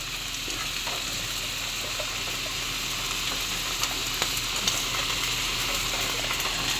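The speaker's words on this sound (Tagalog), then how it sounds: "Gigisa-gisahin po muna." Chicken liver and gizzard adobo sautéing in a pan, a steady loud sizzle of frying with faint stirring scrapes throughout, no voices.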